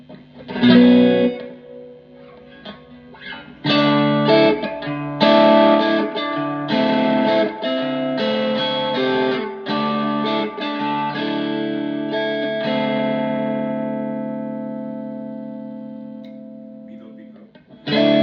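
Fender Telecaster through a Fender Blues Junior IV 30th anniversary amp with reverb turned all the way up: overdriven chords and single notes played close and loud, with a long reverberant chord decaying to near silence before another strum.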